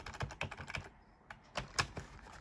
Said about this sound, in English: the keyboard feels nice and clicky